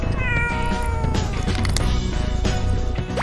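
A cat meows loudly and repeatedly up close, drawn-out yowling calls over a dense, noisy background with brief clattering hits.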